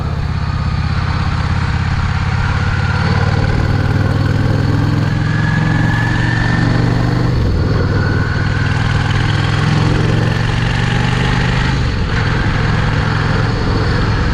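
A Yamaha 650 V Star motorcycle engine runs steadily while still slightly cold, holding a loud, continuous low rumble throughout with small shifts in pitch.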